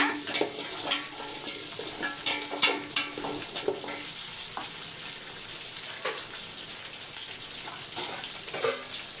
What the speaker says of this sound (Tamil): கடுகு வந்து நல்லா பொரியணும் பொரிஞ்சிட்ட பிறகு ஒன்று ஒன்றா சேர்த்துக்கோங்க